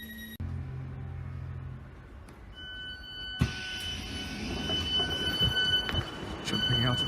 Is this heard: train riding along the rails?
yes